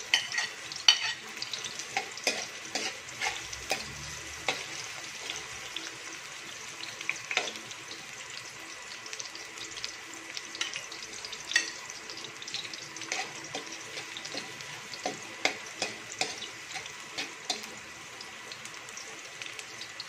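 Native chicken frying in a pan sizzles softly, with frequent spatula stirs and scrapes tapping against the metal in an uneven rhythm, close by and without talking.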